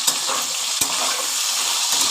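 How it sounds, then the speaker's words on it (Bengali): Drumstick stalks and other vegetables fry in a pan with a little salt, giving a bright, steady crackling sizzle close by, with a soft utensil knock partway through and no talking. "প্রথমে ভেজে নেব একটু ঢাকা দিয়ে দিয়ে ভাজবো তাহলে ভাজাটা ভালো হবে"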